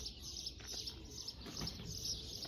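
Tumbler pigeons circling overhead in the open sky, soft chirps and wing flutters carried faintly on a quiet outdoor background, with no voices.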